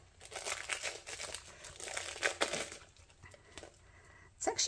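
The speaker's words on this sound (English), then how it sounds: "let's peel this off and see what we've got" Thick cast resin water-ripple tray, roughly 10 to 12 millimetres deep, being peeled free of its mould, giving a close, continuous crinkling and tearing rustle with small crackling bursts, and a brief louder rip at the very end.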